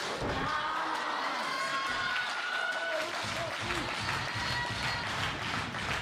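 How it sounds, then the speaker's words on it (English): Packed Northeast Wrestling arena crowd cheering and applauding during a championship match, a loud, dense, unbroken wash of clapping and shouting throughout. "this Northeast Wrestling crowd, jam-packed here at the NEW Arena"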